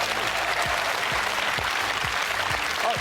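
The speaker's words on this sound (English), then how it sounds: "Let's give him a big round of applause, ladies and gentlemen." Audience applause at a magic show, a dense steady wash of clapping from a crowd that stays loud and even throughout, with no talking over it.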